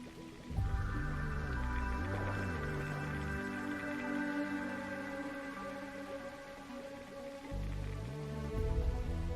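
Rain falling in the video game The Universim: a steady patter of raindrops over a droning, tonal ambient music bed, moderately quiet and continuous, with no talking.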